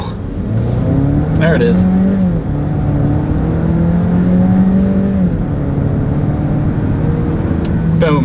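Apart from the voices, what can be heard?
2026 Volvo XC60 mild hybrid accelerating to 60 mph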